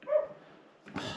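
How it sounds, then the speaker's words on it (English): A single dog barks in the background of a home bathroom being fitted, one short muffled bark and then a second, sharper burst, fairly faint and distant. "Sorry about my dog barking in the background."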